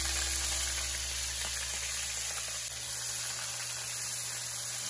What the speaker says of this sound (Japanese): その油でエリンギとピーマンを加熱していきます